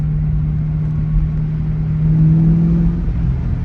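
A 2003 Ford Mustang GT V8 fitted with new MSD ignition coils pulls smoothly under part throttle, a steady low engine drone that swells slightly in pitch and loudness as it accelerates, heard from inside the car.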